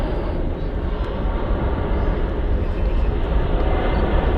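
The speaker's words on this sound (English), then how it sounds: "that's quite a short takeoff, must be very light. And undercarriage up." A fixed-wing airliner takes off from runway 05L at Manchester Airport, a dense, loud roar of jet engines filling the whole stretch at close range with no gaps and no talk over it.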